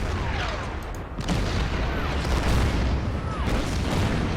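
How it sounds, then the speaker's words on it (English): Artillery shelling an anti-tank gun in the wartime strategy game Order of Battle, heard as a loud, rumbling barrage with a couple of sharper booming impacts. "I'm gonna hit the AT gun with the artillery"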